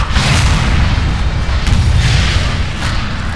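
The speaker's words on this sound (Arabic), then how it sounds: "ده بيضرب سلاح بلازما" In Half-Life 2: Episode One, a Strider fires its plasma weapon with a loud, sustained booming roar that surges in heavy, rumbling blasts.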